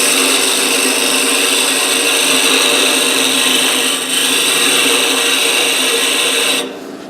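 Wood lathe turning a tenon into the end of a cylindrical pepper mill blank, a steady close, loud broadband whirr and cutting hiss running continuously before dropping off near the end.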